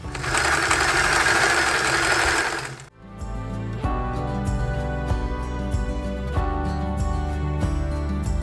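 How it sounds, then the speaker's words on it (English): A sewing machine stitches lace onto a vintage dress sleeve, running in a steady loud whir for about three seconds, then stopping; slower mechanical clicks and ticking of the machine follow. "I will start sewing just a little bit past where the seam line is here on my sleeve"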